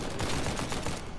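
Rapid gunfire in Uncharted 4: A Thief's End, a loud, continuous burst of automatic shots rattling in quick succession, close and dominant, ending abruptly after about a second.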